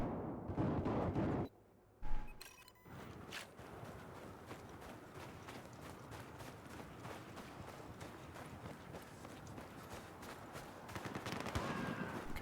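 Rapid assault rifle gunfire in a Battlefield multiplayer match, a steady stream of sharp shots over noisy battlefield din after a brief lull near the start.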